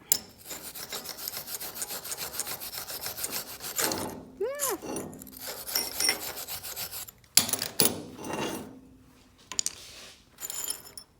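A wire brush scrubbing a fresh MIG weld on metal, rapid rasping strokes in bursts, loud and close, with a short ringing metallic clang midway and pauses between passes.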